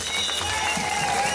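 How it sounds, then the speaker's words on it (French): A crowd at an outdoor march against emergency measures breaking into applause, a continuous wash of many hands clapping with faint voices mixed in. "Bonne belle applaudissement!"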